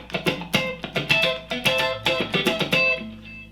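Palm-muted electric guitar strumming in a driving, steady rhythm from a song, with repeated choppy chord stabs played alone and close.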